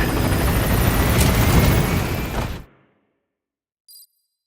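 P-Quad helicopter from Metal Gear Solid V arriving, a loud, close rotor roar that cuts off abruptly into silence, followed by a brief faint electronic chime.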